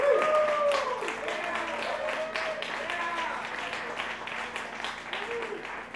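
An audience welcoming a jazz trio at a brewery performance breaks into a burst of applause that starts strong and fades slightly over several seconds, with scattered cheers and whistles.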